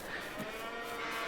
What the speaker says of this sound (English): Hello, cows. They look very happy.